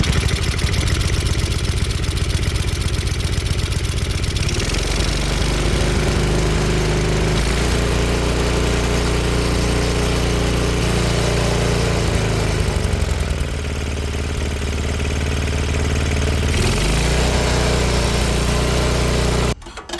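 A Snapper 522 snowblower with a Tecumseh 5HP engine running after a carburetor replacement, a loud, steady close-up engine drone that holds for the whole stretch with slight shifts in pitch, then cuts off at the very end.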